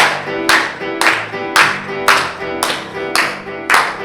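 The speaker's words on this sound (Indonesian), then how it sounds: "Tepuk tangan yuk." Children at an online Sunday school service clap their hands in unison, seven loud, sharp claps spaced evenly about half a second apart over a low background.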